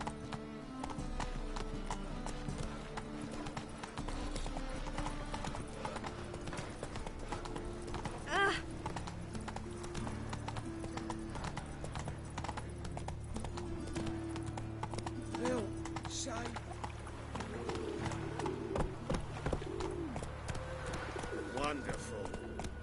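Geralt's horse Roach trotting in Witcher 3, a long run of rhythmic hoof clip-clops with pigeons cooing in the background and some speech.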